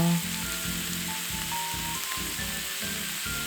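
Meat sizzling on a tabletop grill, a continuous close crackling hiss of fat spitting on the hot surface, with a faint low rhythmic pulsing beneath and no voices.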